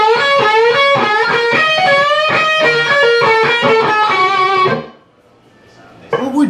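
A distorted electric guitar plays a fast, sustained solo line, with bends and pull-offs. It rings loud for about five seconds, then drops to near silence before a brief new attack.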